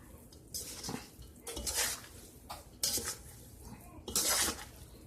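Noodles stirred in a cooking pot for a BBQ chicken dinner, four separate bursts of close metallic scraping and clinking of a utensil against the pot with short quiet gaps between them, and no talking.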